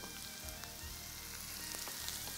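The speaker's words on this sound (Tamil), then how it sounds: "சின்ன வெங்காயம் கருவேப்பிலையில் கொஞ்சம் போட்டிருக்கேன்" Shallots, curry leaves and dried chillies sauté in coconut oil with a faint, even sizzle and occasional light pops, close but low in level and without speech.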